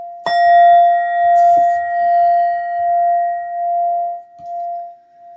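A brass Indian singing bowl with a Buddha in the middle is struck once and rings with a long, pure sustained tone that slowly wavers and fades, close and clear with a few faint handling knocks.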